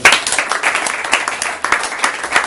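A church congregation claps in a steady, slightly uneven rhythm, moderately loud and close, with faint voices mixed underneath.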